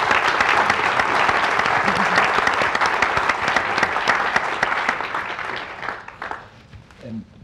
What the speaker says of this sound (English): Now a round of applause for our panel.